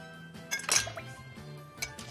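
Ice clinks into a glass mixing beaker for a cocktail, a few light, close chinks and rattles in quick succession, with one brighter clatter near the middle.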